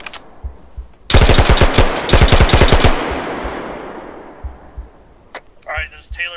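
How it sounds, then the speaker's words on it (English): Rapid automatic gunfire rattles in two dense bursts in a military video game, followed by a fading rumble, a few scattered distant shots and brief talk near the end. "Oh, incoming rounds."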